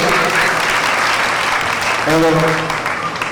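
Applause for children presenting a devotional song at a Jain community event with a tribal folk dance troupe, a loud steady wash of clapping with a voice speaking over it.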